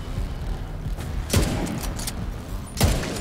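Gunfire in the video game The Division 2 comes as a few sharp, loud shots and bursts spread unevenly over a few seconds against a low background rumble.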